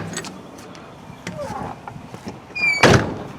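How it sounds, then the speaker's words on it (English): A door of a metal shop building swinging shut, ending in one loud close thunk with a rattle near the end, after quieter shuffling and handling sounds. "close the door"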